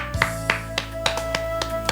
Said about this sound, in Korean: 우리 하나님께 감사의 박수 올리겠습니다.